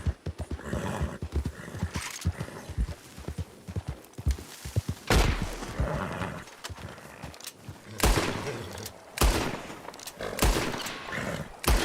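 Several sharp, loud gunshots spaced a few seconds apart in Red Dead Redemption 2 while hunting, over steady clip-clopping horse hooves and an occasional whinny.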